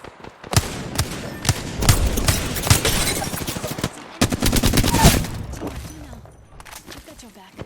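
Gunfire in an Apex Legends match, loud rapid bursts and single shots coming in clusters with short gaps, mixed with a player voice talking over the fighting.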